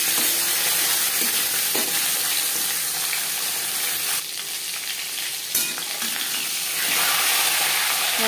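A marinated silver carp fish head fries in hot refined oil with a steady, dense sizzle and crackle. The spatter swells and eases slightly as the pieces settle in the pan, with no talking.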